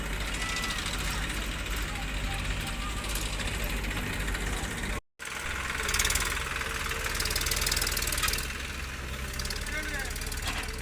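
A JCB loader's diesel engine runs steadily while loading a vehicle, a loud continuous rumble with a knocking idle character and brief revving, heard close with a short dropout midway.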